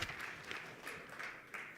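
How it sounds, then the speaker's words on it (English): Clapping for a conference speaker at a green hydrogen conference in Namibia, a brief steady patter of many hands with a few sharper individual claps standing out. "Let me clap for you."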